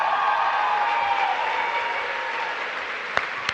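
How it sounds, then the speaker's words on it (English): A crowd applauds loudly, the clapping gradually fading, with a couple of sharp knocks near the end. "Huge round of applause."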